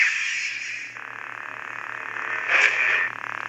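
An Ahsoka Tano Clone Wars Legacy toy lightsaber ignites and hums steadily with a buzzy electronic drone, swelling briefly in a bright surge partway through before settling back into the hum.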